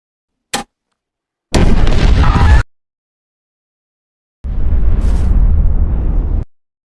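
Film explosions as Mickey 18 blows himself up, a brief sharp crack, then two loud heavy booming blasts separated by silence, no talk.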